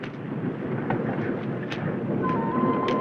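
Thunder rumbles through a building woodland storm, a broad low roll with a few sharper cracks, heard steadily over about three seconds.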